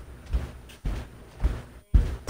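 Dull, muffled thumps repeat at a slow, uneven rhythm, like a bed knocking against a wall in another room, fairly faint with low rumble between.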